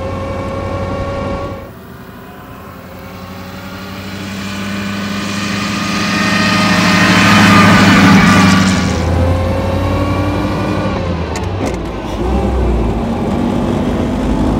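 A 1935 Bugatti Type 46 S supercharged eight-cylinder cabriolet pulls up a steep grade in second gear, its close, steady engine drone dipping briefly, then swelling and easing with no voices.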